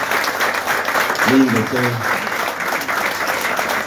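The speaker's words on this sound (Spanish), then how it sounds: "a los cuales les vamos a dedicar este aplauso enorme" Sustained applause from the crowd at a peña, a steady wash of clapping throughout, while a voice briefly speaks over it.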